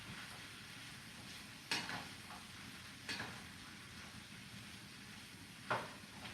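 Jimmy Dean sausage and cabbage stirred in a pan for a keto dinner: a faint, steady sizzle broken by three quick spoon scrapes spaced a few seconds apart.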